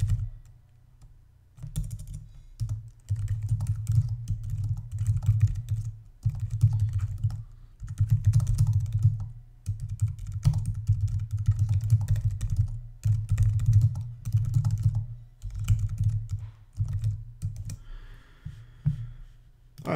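Fingers type on a computer keyboard while composing an email. The clattering keystrokes come in steady bursts with brief pauses, close and fairly loud, and no one speaks.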